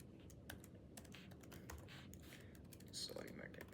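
Quiet, close clatter of computer keys comes in quick irregular bursts, with brief pauses between groups of keystrokes.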